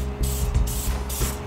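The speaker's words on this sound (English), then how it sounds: "A little light spray." A short hiss of cooking spray onto a grill sprays in two or three quick bursts over a steady low hum of background noise.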